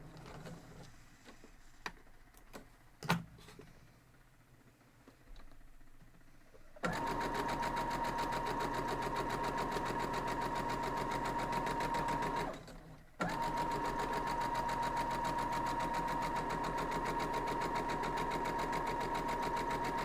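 A sewing machine stitches a quilt block in a steady, continuous whir, running loud and close for about six seconds, pausing briefly, then starting again; a few quiet handling knocks come before it starts.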